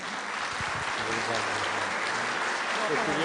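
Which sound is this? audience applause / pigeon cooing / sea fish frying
audience applause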